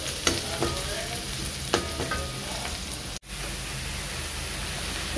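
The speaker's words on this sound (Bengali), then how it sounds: "আর এই যে এখন রসুন দিয়ে দিচ্ছি, শুধু রসুন কুচি দিয়েই বাগাটা দিব" Minced garlic frying in hot oil as a tempering for leafy greens, a steady close sizzle with a few sharp crackles and one brief dropout partway through.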